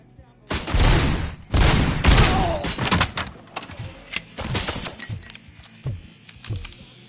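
Heavy gunfire from RoboCop Rogue City on PS5, loud bursts of shots mixed with crashing, breaking debris and slamming impacts, starting intense then thinning into scattered single shots and thuds.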